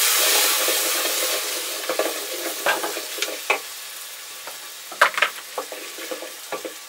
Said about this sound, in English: you cook the tomatoes with occasional stirring until they're cooked down a bit